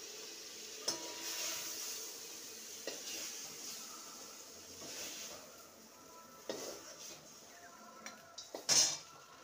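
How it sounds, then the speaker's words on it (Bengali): Fried ridge gourd being scooped from a pan into a tiffin box, with faint frying sizzle, light scraping and a few sharp metallic clinks of utensils, quiet overall with no talking. "এবার টিফিন কৌটোয় তুলে নেব।"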